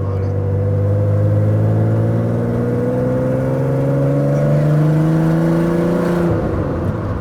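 A Peugeot 206 fitted with a VR6 engine drives along steadily, its loud, close engine drone slowly rising in pitch as it gently gathers speed before easing off near the end.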